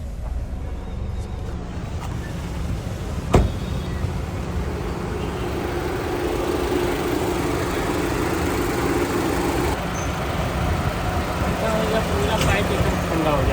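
A car engine idles with the AC switched on, a steady low hum close by that grows slightly fuller, with people talking over it and one sharp knock early on.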